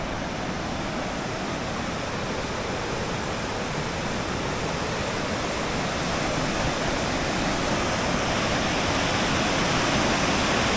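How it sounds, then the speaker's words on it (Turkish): Water cascades and flows at a natural spring in Solhan, Bingöl, making a loud, steady, unbroken rushing roar throughout with no voices. "Su çağlayarak akıyor."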